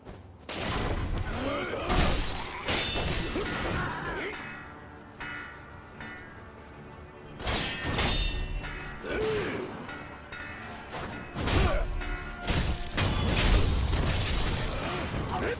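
Gunfire in Sekiro: Shadows Die Twice on Xbox One X, repeated loud booming blasts in clusters across the span, heard under someone talking.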